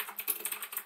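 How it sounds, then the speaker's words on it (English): Quick, light taps on a computer keyboard come in a short, brisk run of key clicks, close and fairly quiet, with no voice. "I'll type something into the chat."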